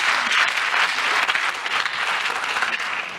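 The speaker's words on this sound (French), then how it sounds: "on vous applaudit, bien sûr" An audience at a talk on diagnosis and treatments claps steadily throughout, a dense, even wash of applause with no voices.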